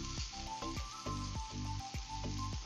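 Chopped vegetables sizzle in hot oil with cumin powder added, a steady close crackle broken by repeated stirring scrapes at a quick, regular rhythm.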